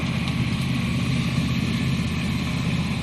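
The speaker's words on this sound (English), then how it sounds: "Give it a chance for the engine to warm up" Engine of a 1983 farm truck idling steadily while it warms up, a low, even rumble that holds constant throughout with no revving.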